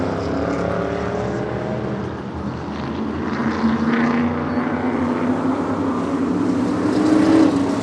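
Vintage modified race cars racing at Monadnock roar together in a dense, continuous engine drone that swells slightly as the pack passes, loud and unbroken.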